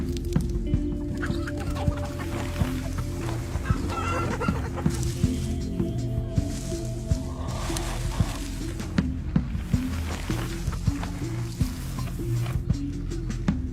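Chickens cluck repeatedly inside a coop, a dense, steady chorus of overlapping calls with sharp clucks popping out over a continuous low rumble of background noise.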